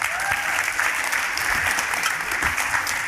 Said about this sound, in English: let's give Gary Vee a huge round of applause